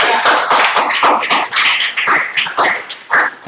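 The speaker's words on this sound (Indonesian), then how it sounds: "Tepuk tangan dulu Mas ya" A class claps hands in a chemistry lesson, sharp separate claps in an uneven rhythm, close and loud, with no talk over them.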